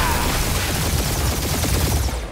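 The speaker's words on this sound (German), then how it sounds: "Wir stehen unter Beschuss!" Dense gunfire and rapid shooting in the video game Marvel's Guardians of the Galaxy, a loud continuous barrage of crackling shots and impacts that fills the whole moment before fading slightly at the end.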